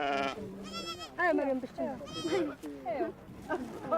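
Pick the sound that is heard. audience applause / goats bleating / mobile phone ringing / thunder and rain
goats bleating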